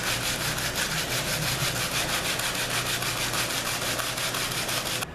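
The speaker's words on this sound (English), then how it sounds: "and sand it down smooth and shape and mold" Pallet wood being sanded smooth, a steady, loud abrasive rasping with a fast rhythmic back-and-forth texture that runs unbroken for about five seconds and then stops abruptly.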